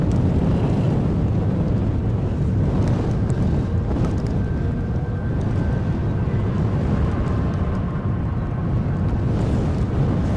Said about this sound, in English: It's getting windier, as you'll be able to hear.